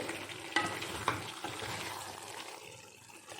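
Chicken kosha cooked without water being stirred in a pan, a soft continuous sizzle with two sharp utensil knocks early on, fairly quiet and close, with no one talking.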